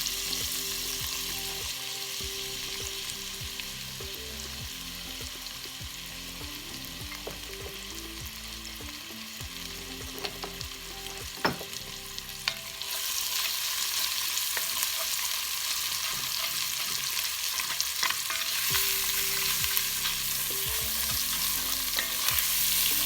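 Garlic and onion frying in a pan for a homemade shepherd's pie, a steady close sizzle with occasional stirring scrapes and clicks, growing louder and brighter partway through, with no talking.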